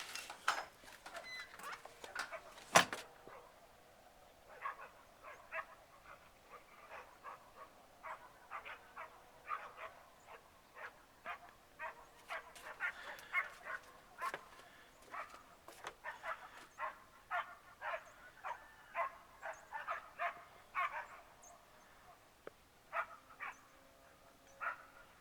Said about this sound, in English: I bet you those are the dogs from the neighbors.